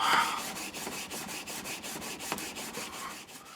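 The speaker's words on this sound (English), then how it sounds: "if you want to work out with your arms and sharpen a load of chisels" A chisel rubbed back and forth by hand on a 300 grit sharpening stone, giving a steady, regular rasping scrape with even strokes, close up and fairly quiet, with no speech.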